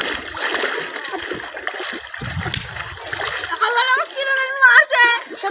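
Water splashes as someone dives in, with loud sloshing early on, then children's voices and chatter taking over toward the end.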